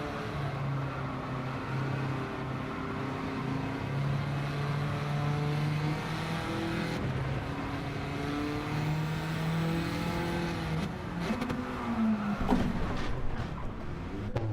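Racing car in a video game rolling into the pits at speed, its engine a steady droning hum with shifting harmonic tones throughout, rising toward the end with a brief burst of clatter.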